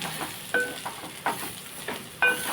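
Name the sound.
frying ivy gourd with chili powder in a pan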